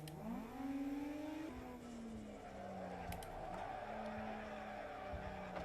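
A race car on the Brands Hatch circuit in Assetto Corsa brakes hard and loses grip, its engine note dropping and rising while tires squeal and skid, loud and continuous throughout.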